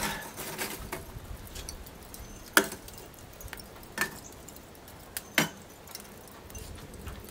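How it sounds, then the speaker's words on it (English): Hardwood chunks dropped into a Grill Dome kamado grill on its first fire and stirred around: a few sharp, separate wooden knocks and clunks over a soft, steady background hiss. "I'm going to throw a few wood chunks in. Stir those guys up."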